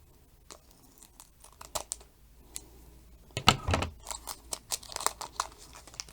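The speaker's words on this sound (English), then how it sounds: "I'm just going to be opening these with scissors" Scissors snipping open Digimon card booster packs, with scattered sharp cuts, foil crinkling and tearing, close and fairly quiet with uneven bursts.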